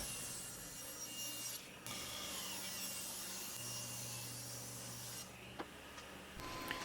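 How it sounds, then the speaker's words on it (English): Ash wood pieces being cut to final width with a power saw in a workshop, a steady continuous whine and rasp that drops out briefly near the start and changes near the end. "And then I'll cut the ash pieces to final width."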